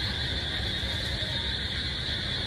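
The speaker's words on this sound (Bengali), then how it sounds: "প্রচন্ড জোরে ঝিঝি পোকা ডাকছে" Crickets chirp loudly in a dense, continuous drone during a steady all-day rain, the insect buzz dominating over the rain's hiss throughout.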